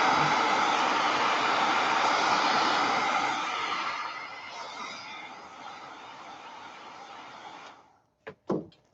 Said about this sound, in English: I'm going to go ahead, blow dry it just a little bit.